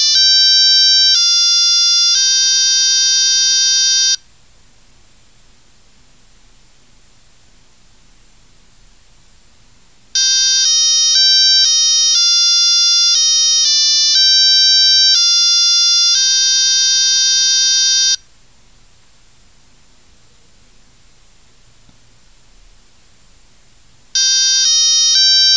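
A ChN-04 electronic clock alarm beeps out a melody in loud, piercing electronic tones, playing in repeated bursts separated by pauses of near silence.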